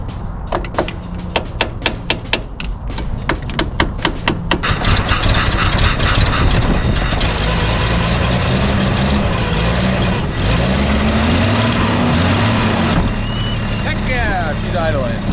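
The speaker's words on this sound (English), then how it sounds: "checked the float, worked the float a little bit, and she's idling" A Toyota Land Cruiser engine, its carburetor float just freed, cranks with rapid ticking bursts, then catches and settles into a steady, loud idle that runs on continuously.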